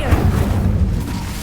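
An Incendio fire spell in Hogwarts Legacy erupts as a loud, dense, low whooshing roar of flame that holds steady for about a second and a half before easing slightly.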